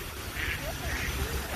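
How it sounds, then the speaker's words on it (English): Ducks on a pond in New York's Central Park give a few faint, scattered quacks amid a low outdoor background hum, as the birds take off and fly away. "Look at those ducks flying away"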